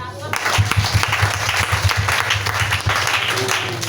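A church congregation claps during a French-language worship service, dense steady applause filling the room with voices mixed in under it.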